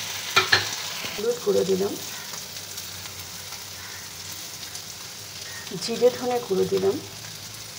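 Tomato and green chillies fry in a pan with turmeric and cumin-coriander powder, a soft steady sizzle with a few brief stirring scrapes, under a voice speaking in Bengali.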